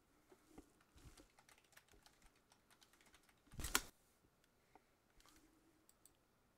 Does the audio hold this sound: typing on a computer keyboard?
yes